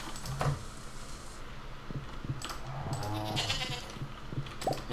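Goat bleating inside a barn in the video game Stardew Valley, a few short bleats repeating over a steady background of game ambience, fairly close and alone without talk.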